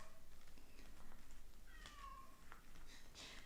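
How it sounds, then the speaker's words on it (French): A house cat meows in a quiet room, a few short, soft calls at moderate distance over faint background hiss, with no talking. "Ça miaule, hein?"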